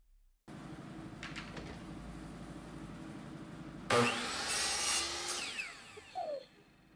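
Saw cutting wooden wainscoting trim at a 45-degree angle: a low motor hum runs steadily, then a louder, brighter burst of cutting noise follows before winding down, fairly close with no speech.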